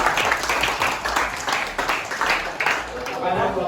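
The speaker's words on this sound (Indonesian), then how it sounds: "Tepuk tangan untuk kelompok 2." A classroom group claps, rhythmic bursts of hand clapping repeating several times, close, with voices mixed in.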